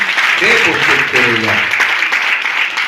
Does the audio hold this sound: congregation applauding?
yes